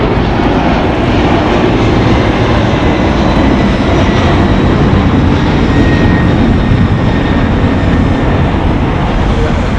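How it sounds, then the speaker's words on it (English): A Delta Airlines Boeing 767-300ER jet lands at LAX, its engine roar a loud, steady broadband rumble that fills the whole stretch without letting up. "Delta Airlines in its Sky Team livery just landed on the north side."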